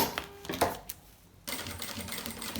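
Sewing machine stitches over the folded, heat-sealed end of a strap on a nail-polish case, with short bursts of rapid needle clatter broken by a brief pause, fairly faint and close.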